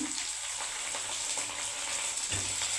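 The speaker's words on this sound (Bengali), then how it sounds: "ফুলকপিটা এই পেঁয়াজের সাথে একটু ভেজে নেব" Cauliflower florets fry with onion in hot oil alongside green chillies, bay leaf and whole cumin, giving a steady, fairly quiet hiss throughout with a slight shift near the end and no talking.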